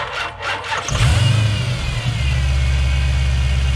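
A Hellcat-engined Chrysler 300 with a weak, dying battery cranks briefly with a rhythmic whirring, then catches and settles into a steady low rumble, close by.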